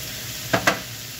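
Garlic chicken frying in a pan gives two quick sharp stirring scrapes with a sizzle, close by, over a quiet low background hiss.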